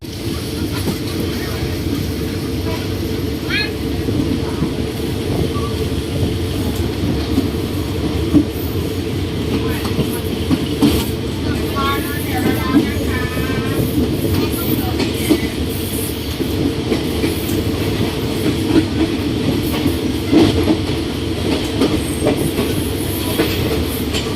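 Thai ordinary passenger train No. 233 running from Bang Sue Junction toward Don Mueang, heard from inside a carriage as a steady, loud rumble with clattering wheels and occasional squeals, with faint voices in the background.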